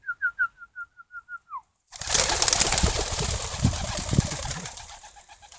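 A series of soft homing pigeon coos, then a sudden rush of close wing flapping and fluttering as several pigeons fly in together.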